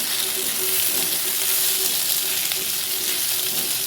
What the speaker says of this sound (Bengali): এবার আমি কাঁচা লঙ্কা কুচি দিয়ে দিচ্ছি আবারও আমি নেড়েচেড়ে করে নিই